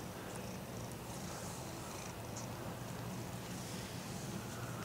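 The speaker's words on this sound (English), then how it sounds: "I see you, cat." A cat purring close by, a soft, continuous rumbling that holds steady for several seconds with a faint breathy hiss and no talking.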